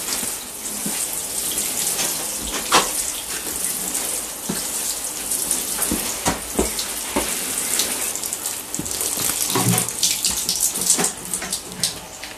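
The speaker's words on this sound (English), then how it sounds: "Now, if I reckon, Millie, if I get enough of water in can, I can do that bit and that bit." Water pours steadily into a watering can in a garden, a continuous splashing rush with small drips and gurgles lasting throughout, close and fairly loud with no talking.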